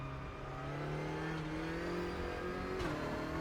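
BMW M6 GT3 race car engine in the Automobilista 2 racing sim, a loud steady in-car drone with strong harmonics, pitch rising gradually under throttle with a brief dip near the end.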